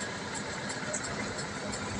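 Steady mid-to-low engine rumble of a bus heard from inside while riding through Natar, South Lampung, a continuous even drone with road noise and no clear speech.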